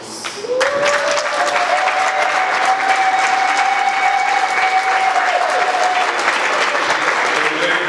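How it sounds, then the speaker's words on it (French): Loud, dense applause from an audience at a New Year greetings event at Béatrice Hôtel, continuous and close, with a held sustained tone running under it for several seconds. "j'aimerais qu'on les applaudisse."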